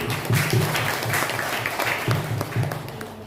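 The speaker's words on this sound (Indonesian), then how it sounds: "Kita kasih tepuk tangan dulu" Applause from a school audience of teachers at a junior high, a brief burst of scattered clapping rising and falling over about three seconds, fairly close, with a voice faintly mixed in.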